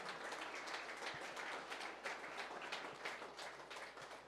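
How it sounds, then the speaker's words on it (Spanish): A church congregation applauds during a sermon, a steady wash of many hands clapping at a distance, fairly faint, with no talk over it. "Denle un aplauso al Señor."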